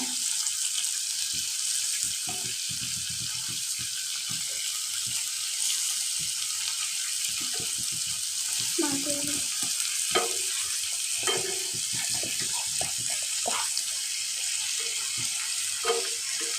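Prawns sizzle steadily in a hot pan of oil, a continuous bright frying hiss broken by scattered clicks and taps as the pieces are turned over one by one.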